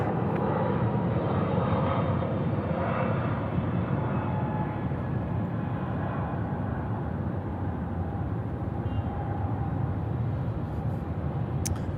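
A jet airliner roars past overhead at Sydney Airport at night, a loud, continuous broadband rumble that swells and slowly fades, heard outdoors without talk.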